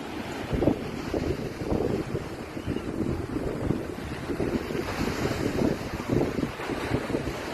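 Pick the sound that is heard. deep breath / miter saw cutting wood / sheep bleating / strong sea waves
strong sea waves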